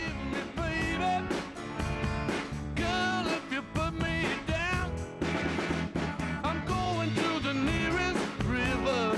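A song track plays loudly and continuously as full-band pop music with vocals and steady drums, filling the whole stretch without interruption.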